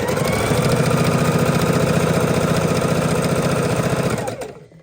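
A sewing machine stitching half square triangle fabric pieces, a steady, fast mechanical chatter of the needle running continuously and close up before slowing to a stop.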